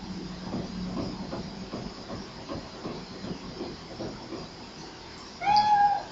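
A cat in the video game Fatal Frame 3 lets out a brief, clear meow near the end, following several seconds of low, murmuring ambient background.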